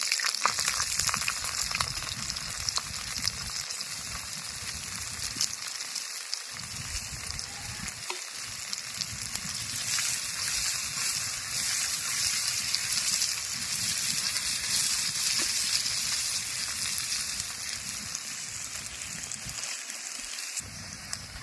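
Chopped onions sizzle in hot oil with nigella seeds, a constant crackling hiss that stays loud and even throughout, with no talking.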